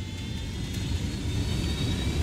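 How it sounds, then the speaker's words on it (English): A helicopter engine whirs and rumbles steadily in Ghost Recon Wildlands, a continuous droning hum with a faint high whine, moderately loud and with no talking. "I'll just use this authentic helicopter that I carefully landed"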